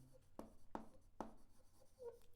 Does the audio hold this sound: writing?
yes